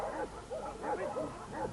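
A dog barks and yips close by in a farm setting, several short rapid barks in quick succession.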